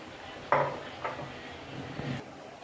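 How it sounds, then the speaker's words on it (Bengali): Fried paneer pieces drop into a pot of simmering egg curry with a few close, soft clatters of utensil against pot, at about half a second and again around one and two seconds, over a low steady bubbling background. "এবার এর মধ্যে দিয়ে দেবো ভেজে রাখা পনিরগুলো"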